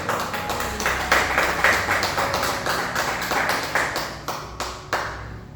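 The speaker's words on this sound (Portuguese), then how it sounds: "dê uma salva de palmas para Jesus" A church congregation claps for Jesus in a rhythmic pattern of distinct sharp claps, roughly two or three per second, near and fairly loud, thinning toward the end as the clapping tapers off.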